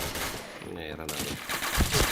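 Gunfire in the shooting game Point Blank, a dense burst of rapid shots followed by a few more bursts, loud and close, with voices talking over it.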